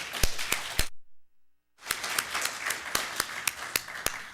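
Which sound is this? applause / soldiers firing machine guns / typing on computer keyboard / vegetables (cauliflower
applause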